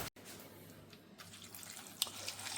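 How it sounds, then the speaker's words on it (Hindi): Cold milk poured into a bowl or glass in a homestay kitchen, a steady liquid stream like running water lasting a couple of seconds, fairly close, with no talk over it. "दूध डालेंगे।"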